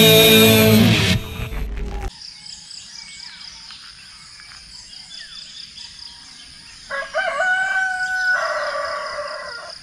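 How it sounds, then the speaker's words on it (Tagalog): A rooster crows loudly at the start, followed by quieter ambient noise, then another rooster crow rises in the distance near the end. "Nagiging alarm clock na namin ang tilaok ng manok dito sa amin tuwing umaga"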